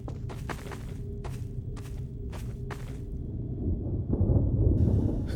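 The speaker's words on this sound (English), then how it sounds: "That must be the storm." Thunderstorm ambience in the video game Half-Life 2: Dark Interval, a low steady rumble with scattered thuds and sharp knocks, then a heavier surge of rolling thunder toward the end, with no talk.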